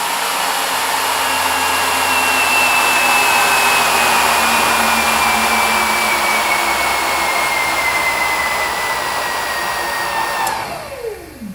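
A 1944 lathe driven by a treadmill motor whines steadily as it coasts down, its tone sliding slowly lower before dropping off quickly at the end.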